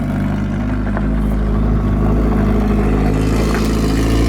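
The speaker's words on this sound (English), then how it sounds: "look at Devin over here ripping the Miata" A Mazda Miata engine running with no exhaust fitted, loud and raspy up close, with a steady, heavy drone and no clear peaks.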